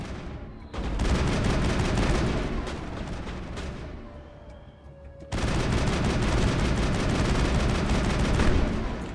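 Gunfire in the video game Mass Effect comes as dense, rapid bursts of shots, loud and sustained, with a short lull midway before another heavy volley.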